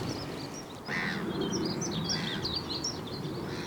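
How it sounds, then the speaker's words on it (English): Birds call along the waterline at Milton Common at sunrise, a scatter of chirps and a few caws over a steady wind and water background, moderately distant. "there's birds all the way along the waterline here at Milton Common"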